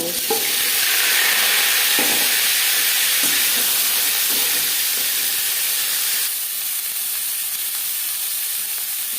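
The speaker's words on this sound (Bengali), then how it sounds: "দু চামচ রিফাইন্ড অয়েল গরম করে নিয়েছি ফুলকপির থেকে আমি জল বেশ ভালো করে ঝরিয়ে নিয়েছি এবার আমি ফুলকপি ভেজে নেব" Cauliflower, drained of water, fries in two spoons of hot refined oil, giving a loud, steady sizzle and hiss that runs without a break, heard close up with no voices.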